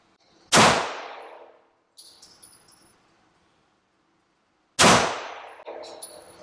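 Two loud, sharp pistol shots from a Staccato XC fired at a range, spaced about four seconds apart, each ringing out with a brief decaying tail, with faint clinks and handling noise between them.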